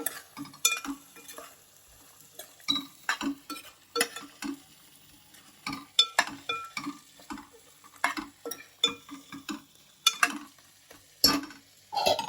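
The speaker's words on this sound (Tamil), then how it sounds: "காரத்துக்கு red chilli powder, chicken masala இதை மிக்ஸ் பண்ணிக்கலாம் நல்லா." Chicken is stirred with red chilli powder and chicken masala, a spoon scraping and tapping against the pan in irregular, fairly quiet bursts over a faint sizzle, with short pauses between the strokes and no voices.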